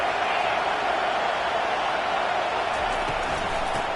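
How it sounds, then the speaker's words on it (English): A football stadium crowd at a Broncos game roars in a dense, steady wall of cheering and noise that holds loud for the whole stretch with no break. "This crowd bringing the energy and noise early."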